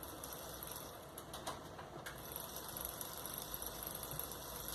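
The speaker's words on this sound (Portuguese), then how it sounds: "E o motor tá aí trabalhando." A small 9-volt micromotor runs steadily after being switched on through a relay, giving a faint, even mechanical whir and light rattle throughout, with no voices.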